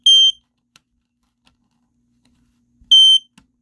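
A Fyrnetics Lifesaver F-900D smoke detector gives two short, loud, high-pitched electronic beeps as its battery is attached, roughly three seconds apart, with faint clicks of handling between them and no talk.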